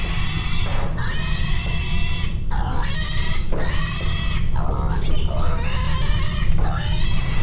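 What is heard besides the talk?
pigs squealing on a pig farm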